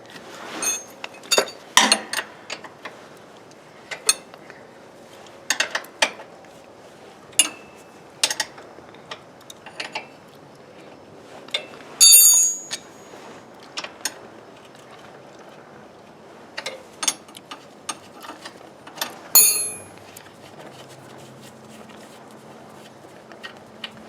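Bolts being removed with a 1/2 inch wrench on a John Deere 318 garden tractor, giving scattered close metallic ratchet clicks, clinks and tool knocks in irregular bursts over a quiet background, with no talk.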